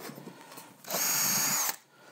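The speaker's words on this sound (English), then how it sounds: "I'm going to drill through again with my speed pilot." A power drill with a speed pilot bit bores through a wooden board backed by scrap wood, a single loud, steady whine lasting under a second amid quiet surroundings.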